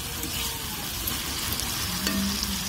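Ground ridge gourd chutney is sautéed in a pan, a dense, even sizzle close by with light stirring, steady throughout and without speech.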